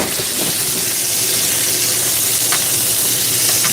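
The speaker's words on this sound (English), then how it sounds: "I'm gonna drain off some of this oil before we add our sauce in" Hot cooking oil being poured off from a frying pan, giving a steady, close hissing sizzle that runs unbroken throughout, with a couple of brief sharper spits near the end.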